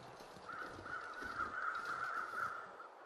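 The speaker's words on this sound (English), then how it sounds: "where did my crows go?" Crows caw in The Long Dark, a harsh repeated call running steadily for about two and a half seconds over a low wind-like bed, moderately loud and unaccompanied by speech.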